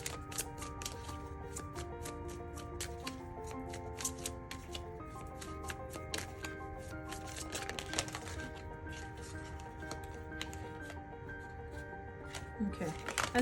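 Tarot cards shuffled by hand in a steady run of soft riffling clicks, close and clear, layered over continuous background music.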